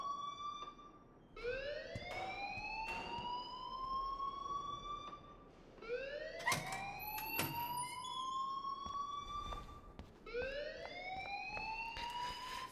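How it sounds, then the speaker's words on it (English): An alarm in the video game Life is Strange wails in three repeating rising sweeps, each climbing and holding before cutting off, loud and steady with no voices over it. "please turn off that alarm since that's your job"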